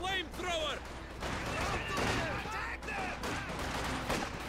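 Gunfire in a Company of Heroes 2 battle, a steady stream of rifle and submachine-gun shots at moderate distance, mixed under speaking voices.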